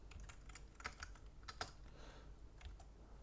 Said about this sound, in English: So I'll just type it for now.